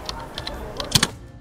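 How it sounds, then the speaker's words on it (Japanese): A typing sound effect of keys clacking, with a few light scattered clicks and then a louder quick double clack close up before it stops. "今タイピングの 効果音がカチャってなったところで"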